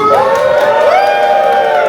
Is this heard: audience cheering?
yes